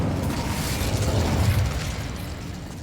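The Incendio fire spell cast in Hogwarts Legacy makes a loud, whooshing fiery burst that swells for about a second and then eases into a softer rumble.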